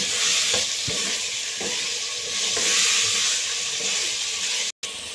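Capsicum (shimla mirch) frying in oil in a pan, giving a steady, bright sizzle with occasional soft stirring scrapes, close and continuous, briefly cutting out near the end.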